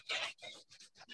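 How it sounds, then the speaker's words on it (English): Newspaper being rubbed in a few quick rasping strokes: a loud first swipe, then several shorter, softer scratchy rubs close by, with no talking. "So the first move is going to be rubbing the newspaper."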